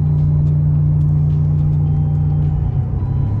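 Ford Tremor pickup truck cruising in fifth gear while towing a trailer, a steady, loud, close engine drone with deep low rumble and constant road noise, no talking.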